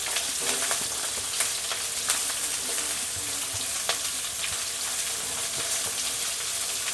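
Onions frying and sizzling in hot oil in a pan for puffed rice upma, a steady crackling sizzle with occasional stirring clinks, close and moderately loud.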